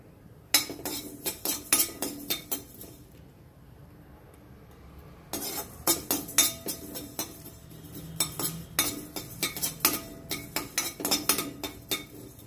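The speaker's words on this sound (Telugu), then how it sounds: "ఇప్పుడు వీటిని కూడా వేయించుకుంటాం" Lentils and dried red chillies dry-roasting in a pan for curry leaf spice powder, stirred with a metal spoon that scrapes and clinks against the pan in quick bursts, pausing for a few seconds midway.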